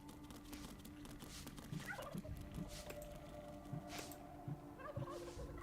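Turkeys in the video game Dungeons 3 gobble in quick, repeated bursts over a constant game ambience, faint and somewhat distant, with several calls spread across the stretch.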